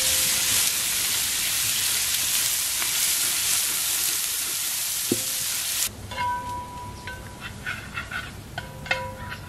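Onion dropped into hot oil already frying garlic and ginger, a loud steady sizzle that shifts to crackling, spattering frying with some stirring partway through.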